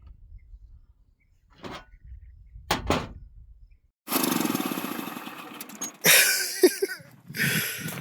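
A 1980s Nissan generator engine that had sat unused for ten years cranks a few times in brief bursts, then catches and runs with a loud, steady rumble that stops and restarts near the end.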